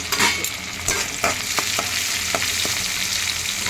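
Dried turkey berries and curry leaves frying in hot oil, a loud, close crackling sizzle with quick spattering pops and stirring scrapes throughout, no voice.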